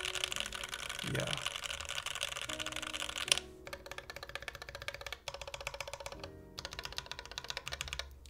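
Rapid keystrokes on an all-brass Think6.5 mechanical keyboard fitted with GMK keycaps, a dense steady clatter of clicks running the whole time, with a brief voice early on and a short pause partway through.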